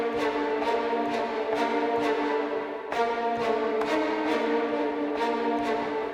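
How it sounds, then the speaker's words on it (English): Short, detached violin notes from a Hans Zimmer strings library, a sustained bright ensemble texture pulsing in a steady repeated rhythm, close and even in level with no voices. "I loaded the short version of the strings, the violins, which sounds like this."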